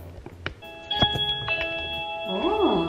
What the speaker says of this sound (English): Stop pressing the doorbell.